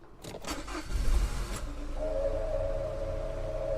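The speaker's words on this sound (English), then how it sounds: "The looter started the car." A car engine starts in an audio drama scene, a brief mechanical cranking and thumps followed by a steady idling hum at moderate loudness, with no voices.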